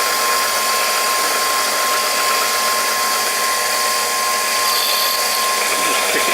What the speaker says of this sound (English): I now just drill through the hole that I spotted, 5BA tapping size.